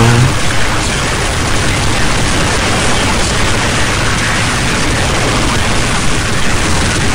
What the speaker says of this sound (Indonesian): Kita tembak terus guys.